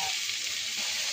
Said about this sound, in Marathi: हे आपल्या भाज्या आपण अशा शिजवून घ्यायच्या, चांगल्या परतून घ्यायच्या ह्याच्यात चांगल्या भाज्या